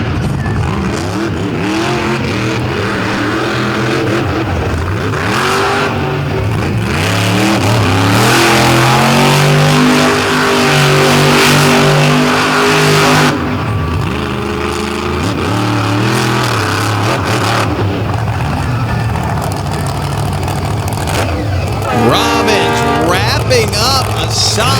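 A drag-style race car launches hard and accelerates with its wheelie bar dragging in the dirt at a big track, a loud sustained engine roar rising in pitch over crowd noise and an announcer talking throughout.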